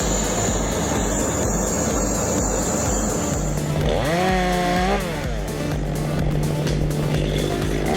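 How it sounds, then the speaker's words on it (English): Handheld chainsaw cutting through massive oak tree branches during piece-by-piece felling, a loud continuous roaring drone with engine revving rising and falling midway, no voices. "The handheld chainsaw roars as its blade digs deep into each massive branch"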